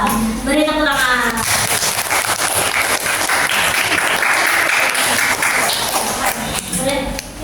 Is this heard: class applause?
yes